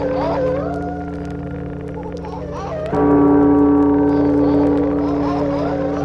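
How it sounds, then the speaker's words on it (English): Wolves howl at a rising full moon in a Halloween sound effect: loud, long, overlapping wavering howls that swell stronger about halfway through and hold to the end. "The wolves started howling at the rising full moon."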